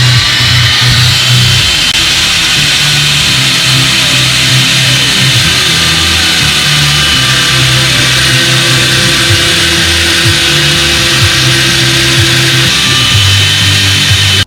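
A power tool slices through part of a KTM 500 EXC frame, a loud sustained whining cut with a buzzing engine-like drone that holds steady for the whole stretch, with no talk.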